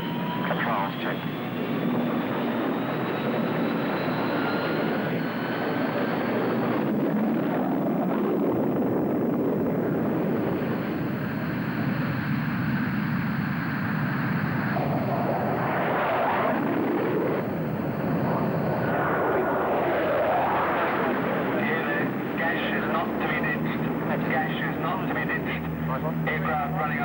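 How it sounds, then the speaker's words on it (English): An A-4G Skyhawk jet engine running up on an aircraft carrier deck: a loud continuous roar with shifting whining tones that rise and fall over nearly half a minute. "Aircraft running up on deck."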